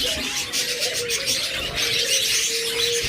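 Indian ringneck parakeets and other caged birds call among busy market noise, with thin chirps and tones threaded through a loud, hissy background.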